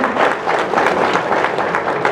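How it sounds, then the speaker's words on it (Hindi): Dense, steady applause from an audience at a police training institute event, many hands clapping close and loud throughout with no talking. "जोरदार तालियों से स्वागत"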